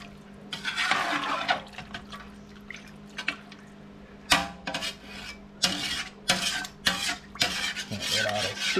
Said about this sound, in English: And I'm gonna stir this up again. A lot of stirring, a lot of stirring,